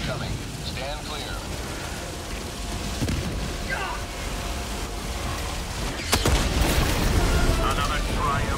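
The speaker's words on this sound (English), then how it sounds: "Orbital barrage incoming." Orbital barrage strikes pound the ground in Helldivers 2, a loud continuous rumble of blasts and debris with a sharper, heavier impact hitting about two-thirds of the way through.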